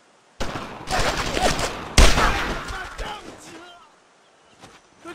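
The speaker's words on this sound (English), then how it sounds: "Let's keep up the fire!" Battle gunfire from the Brothers In Arms World War II shooter, with crackling rifle and machine gun shots in bursts, close and loud, mixed with soldiers shouting.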